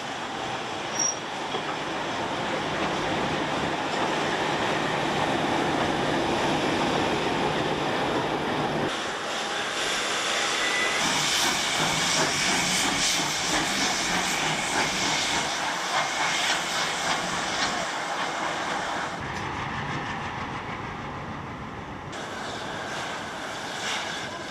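Train on the Lima–Huancayo railway in Peru, with a steam locomotive and a diesel, rolling steadily past with broadband wheel rumble and squealing metal, loudest midway and easing off toward the end.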